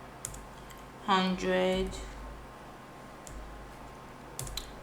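Scattered keyboard clicks and taps on a computer while a magazine cover is designed, sparse and fairly faint, with a brief spoken word partway through.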